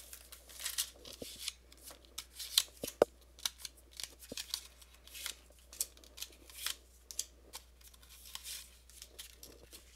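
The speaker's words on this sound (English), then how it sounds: "now we're going to go ahead and open the Splat Pack here" A sealed pack of Cinephile game cards being opened up close: a rapid series of sharp snips and crisp wrapper tears, with light rustling of cards between the bursts and no talking.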